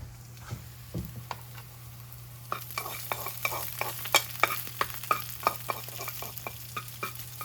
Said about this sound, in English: We're going to add the onions now.